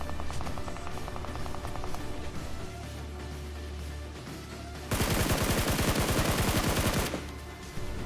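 Bursts of SCAR assault-rifle fire in the BGMI mobile battle royale game, a few scattered shots early, then a dense, loud volley of rapid automatic fire lasting about two seconds before easing off, with no talking.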